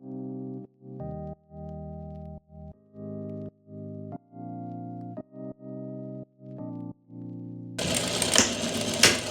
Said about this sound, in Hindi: ये सिलाई आपको धीरे धीरे लगानी होगी